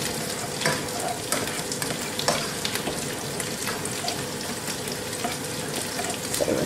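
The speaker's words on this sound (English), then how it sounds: "So stir through the lime zest." Ground pork larb with lime zest sizzles steadily in a hot pan, and a spoon stirs and scrapes through the mixture, giving a constant frying hiss with a few louder scrapes and spits.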